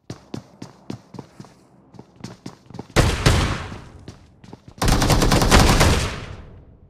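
Gunfire from a shotgun in the mobile battle royale game PUBG Mobile: sharp single shots and footsteps at first, then two loud sustained bursts of rapid fire, close and alone with no talk.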